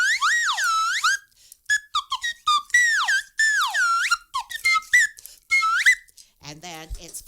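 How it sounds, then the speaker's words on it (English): A slide whistle with a metal slide and plastic body plays a lively sequence of short gliding notes, swooping up and down in quick bursts with brief pauses, loud and close, ending in a breathy flutter. "what I played today that most of the kids recognize is the slide whistle with the metal slide and the plastic body."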